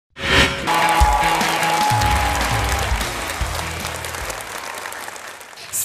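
Audience applause for young child performers on a singing show stage, a dense, steady clapping that starts abruptly, holds loud for several seconds, then gradually thins and fades.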